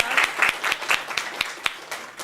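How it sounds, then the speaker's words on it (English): A small gallery audience claps at an art exhibition opening, with sparse, uneven hand claps at a moderate distance that thin out over a couple of seconds. "we have to give her an applause"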